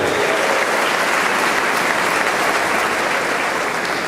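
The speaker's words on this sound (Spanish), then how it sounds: "dale un aplauso al Señor, dale un aplauso con alegría" A church congregation applauds, a dense, sustained wash of clapping from many hands that fills the room at steady loudness from start to finish.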